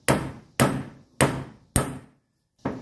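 Hammer tapping a lug bolt through on a 1985 Mercedes 300CD, five sharp metallic blows in a steady rhythm with ringing decay, close and loud, with a brief pause before the last strike.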